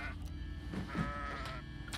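A goat bleats in the video game Kenshi 2, with a couple of short, faint, wavering cries over a low, steady background hum.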